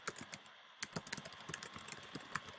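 Quick, uneven keystrokes clatter on a computer keyboard, close and crisp, with short bursts and pauses in the typing and no voices.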